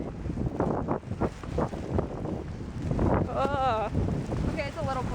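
Outdoor wind at night by a parking area after rain, a broad steady rush and buffeting against the microphone throughout, with people talking close by and a brief high whistle-like tone partway through.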